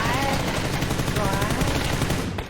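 Video game shootout with loud rapid machine-gun bursts rattling continuously, close and dense, while a player talks over the shooting.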